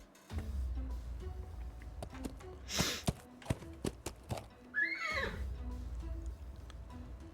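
A horse whinnies in a rising, wavering cry after a few scattered hoof clops and knocks, over a steady low rumble, in the video game Willy Morgan and the Curse of Bone Town.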